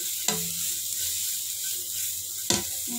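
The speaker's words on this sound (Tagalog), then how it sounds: "Stir fry lang natin." Rice noodles sizzle steadily as they are stir-fried in a hot pan, with two sharp utensil clanks against the pan, one near the start and one near the end.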